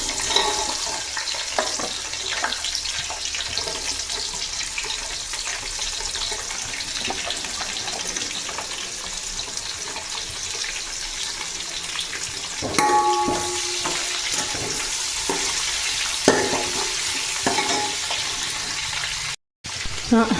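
Large onions sizzle and crackle steadily in a hot pan for mutton biryani, with occasional clinks and scraping of stirring partway through.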